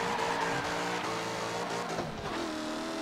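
Car drifting sideways in Forza Motorsport 7, a steady loud engine roar with a continuous tire squeal and skid running underneath throughout, no talking.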